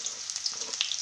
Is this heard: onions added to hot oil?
yes